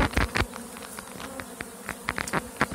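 Honeybees and drones buzz steadily around an open hive during a June search for the queen. Individual insects whir close past and drift away over a dense background hum.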